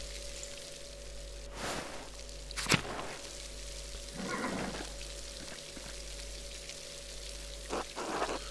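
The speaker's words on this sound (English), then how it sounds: "a storm is brewing" Storm ambience in the video game Pentiment: steady rain hiss with a low rumble, broken by a few sharp crackling bursts like thunder or gusts, moderately loud and with no voices.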